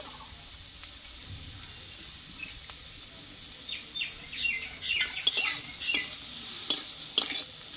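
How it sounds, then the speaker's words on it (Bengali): Potato and carrot pieces stirred in hot oil in a pan, starting quiet and building to scraping stirs and bright sizzling bursts toward the end, close by and with no talk. "আলু আর গাজরটা একটু ভালোভাবে কষিয়ে নেব।"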